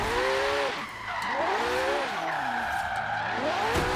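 Tires squeal and skid repeatedly in a video game as a Porsche 959 fitted with a Porsche 918 engine corners too fast, with rising and falling screeches over a steady engine roar.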